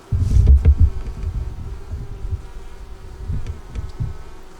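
Honey bees buzz close by at an open hive box, a dense low drone with individual bees droning past, loudest at the start and then settling into a steady hum with no voices.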